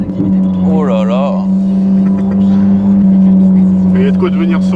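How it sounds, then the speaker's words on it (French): Ferrari 458 Italia V8 engine driving on mountain roads, a loud, steady drone with a rising rev sweep near the start and another toward the end, with voices over it. "Ça, la 458 Italia, le bruit, c'est vraiment la signature de la voiture."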